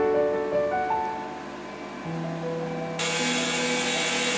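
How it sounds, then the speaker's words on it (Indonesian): A hand grinder whines steadily while cutting an acrylic sheet, its pitch shifting as it works, then a harsher, brighter grinding noise cuts in near the end, close and loud. "kemudian kita potong dengan gerinda tangan"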